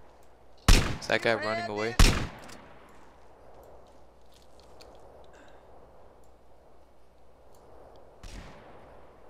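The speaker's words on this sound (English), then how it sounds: "who's shooting?" Gunfire in the video game GTA San Andreas: two loud, sharp shots crack close together near the start, then a fainter one later over quiet background, with someone briefly talking between them.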